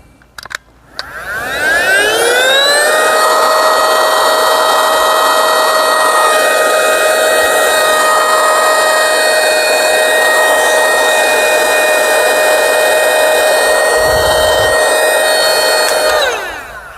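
A portable electric pump inflates a JOYTUTUS self-inflating camping mattress, spinning up to a loud, steady motor whine that holds for about fourteen seconds before winding down, alone with no talk.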